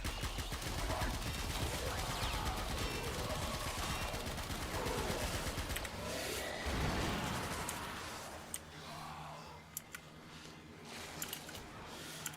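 Automatic weapon fire in the Warframe PC game, a dense sustained burst of rapid shots over busy game effects, easing after about six seconds into scattered pops and mechanical game sounds.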